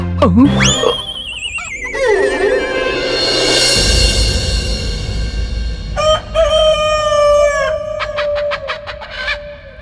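A rooster crows loudly and close, a long rising-then-falling call, followed by a second crow and some clucking from nearby fowl.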